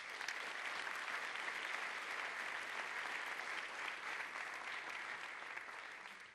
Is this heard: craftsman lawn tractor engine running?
no